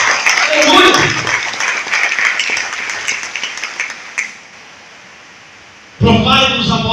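A church congregation applauds at a service, with dense clapping that thins out and fades to near silence before a loud burst of sound returns at the end.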